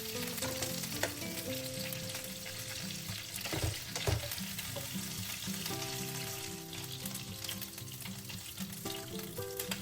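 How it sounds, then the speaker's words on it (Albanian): Meatballs frying in a little oil in a home kitchen, giving a steady close crackling sizzle with occasional stirring and turning noises, and a brief louder scrape of a utensil midway. "Dhe në të njëjtën mënyrë do të veprojmë dhe me qoftet, do t'i skuqim, por jo në shumë vaj"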